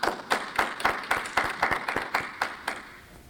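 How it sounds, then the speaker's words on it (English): A graduation-ceremony audience claps for campus staff at a 2020 university commencement, a clear burst of many hands with rhythmic peaks that gradually fade, no talking over it. "So let's give them a round of applause."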